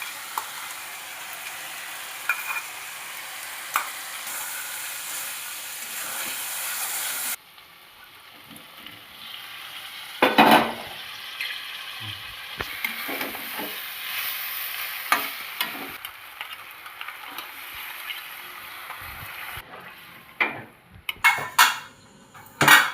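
Marinated chicken for white chicken fries in a pan as spices go in, a loud steady sizzle giving way to softer hissing broken by scraping stirs and clanks of a spoon against the pan.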